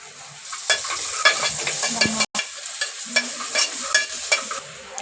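Onions with turmeric and ginger-garlic paste fry in a pan while being stirred, giving a soft steady sizzle broken by repeated scraping stirs and one sharp clack, with no voices.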